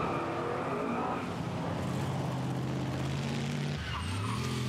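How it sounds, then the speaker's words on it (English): An AC Cobra race car with a new engine powers up a hill climb at Chateau Impney, its loud engine roaring and shifting pitch, with a gear change near the end. "And here's Rob Bremner in the fierce Cobra with its new engine"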